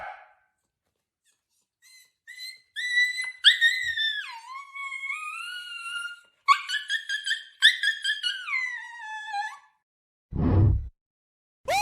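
A person imitates a dog's bark with high yelping, whining vocal sounds aimed at a sleeping dog, a few short calls followed by two longer whimpering runs, then a brief thud near the end.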